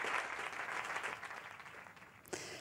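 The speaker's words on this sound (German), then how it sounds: "Standing Ovation bei der Premiere." A theatre audience gives a standing ovation at a premiere, a dense, steady wash of applause from many hands filling the room.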